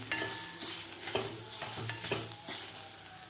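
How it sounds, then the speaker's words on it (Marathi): Grated fresh coconut dry-roasting with rice in a pan for rice kheer, with a spoon scraping and stirring in regular strokes about twice a second over a soft, low sizzle. "आता हे ओलं नारळसुद्धा एक मिनिटभर आपल्याला ह्या खालच्या तांदळाबरोबर भाजून घ्यायचं आहे"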